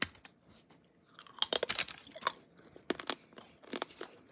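Someone chews the stiff, brittle stick of gum from a 1990 Topps baseball card pack up close, producing irregular bursts of crunching and cracking bites between short quiet pauses.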